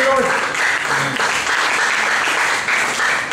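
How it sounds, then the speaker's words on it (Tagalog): A church congregation applauds for the Lord, a steady, dense wash of clapping throughout, with a voice briefly audible at the start. "Palakpak natin si Lord."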